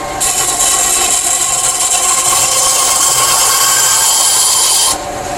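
A bandsaw cuts a curve through a zero-clearance insert for a Ryobi miter saw, a loud steady whine and rasp that holds evenly for about five seconds and then stops abruptly.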